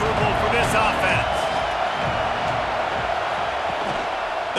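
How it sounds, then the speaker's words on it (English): Stadium crowd roar from a college football video game, EA Sports College Football 26, a steady dense wash of noise throughout with occasional louder swells, under commentary. "This crowd trying to make life miserable for this offense."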